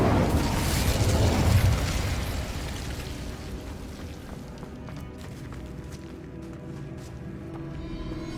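An explosion spell from a Harry Potter video game bursts loud and broad at first, a rushing boom that swells for a couple of seconds before fading into a low, crackling rumble and quieter mechanical ticks.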